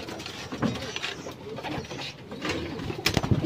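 Pigeons cooing in a loft, soft intermittent low coos close by, mixed with scattered clicks and rustling, moderately faint.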